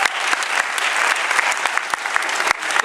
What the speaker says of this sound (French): on peut déjà applaudir le jury